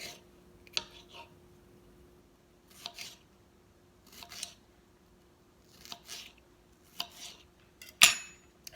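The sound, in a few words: knife slicing red and yellow bell pepper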